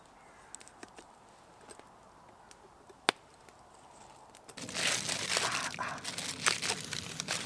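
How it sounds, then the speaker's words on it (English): Tin foil wrapped around a potato crinkles and rustles loudly up close in a cold outdoor survival camp, a sustained papery crackle after a quieter stretch of faint ticks and one sharp snap. "A potato, wrapped it in tin foil."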